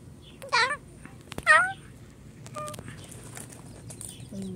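A cat gives two short, rising meows close by in a quiet outdoor setting, with soft clicks and rustles and a faint background hiss between the calls.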